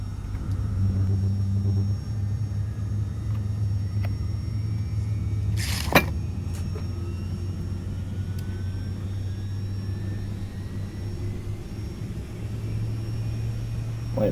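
Boeing 757 jet engine spooling up during start in X-Plane 11, a steady low rumble with a faint rising whine climbing slowly over many seconds, with one sharp click partway through.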